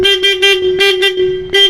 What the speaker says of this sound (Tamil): இப்போ நம்ம ஹாரன் செக் பண்ணிக்கலாம்.